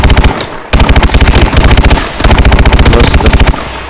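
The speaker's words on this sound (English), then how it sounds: "Freaking annoying with the laser gun." A rapid-fire laser gun in Advanced Warfare fires in long, loud, evenly pulsed bursts, each stream of quick repeating shots cutting off briefly before resuming, close and dominant.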